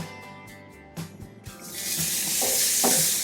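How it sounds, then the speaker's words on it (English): A tomahawk steak searing on a BBQ fired up to 650 degrees, with a few clicks and knocks before a loud, close hiss of sizzling swells up and holds to the end. "We've got this fired up to 650 degrees and we are about to sear the juices in."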